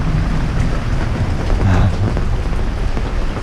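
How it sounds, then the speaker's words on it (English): Low thunder rumbles continuously around a sailboat anchored off Guatemala, a loud, steady roll mixed with rain-like hiss and no voices. "There's the thunder and lightning we were missing, Mike."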